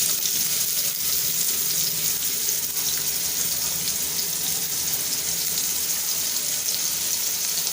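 Finely chopped onion dropped into hot oil for a Malvani-style yellow potato dish, sizzling in a steady, loud, unbroken hiss close up for several seconds.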